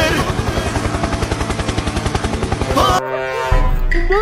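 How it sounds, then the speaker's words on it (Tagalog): A helicopter, apparently remote-controlled, gives a rapid, steady rotor chop that pulses evenly and loudly before abruptly changing to a smoother drone, while a voice cries out near the end. "Helicopter! Helicopter!"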